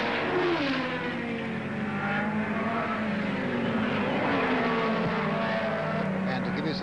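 1960s racing cars, including the leader Jim Clark's, scream past at the 1968 Warwick Farm International 100, engines rising and falling in pitch as they pass, with a race commentator talking over them.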